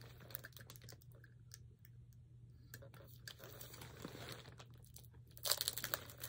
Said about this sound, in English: we can peel off the protective plastic